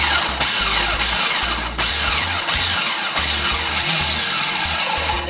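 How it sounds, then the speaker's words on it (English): A food processor pulses graham-style crumbs with melted butter into a coarse wet-sand mix, giving loud, steady motor whirring broken into several short bursts with brief pauses between them. "We're going to keep pulsing it until you get a nice coarse wet sand."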